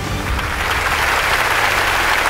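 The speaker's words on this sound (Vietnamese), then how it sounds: "Hãy dành một tràng pháo tay thật là lớn cho Hữu Thanh Tùng" Studio audience at a televised combat-sports competition show gives sustained applause, a thick, even roar of many people clapping together, loud and continuous without speech.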